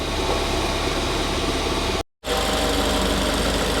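A Ford Fiesta ST engine idles steadily at close range, a continuous mid-pitched rumble broken by one brief dropout near the middle before resuming unchanged.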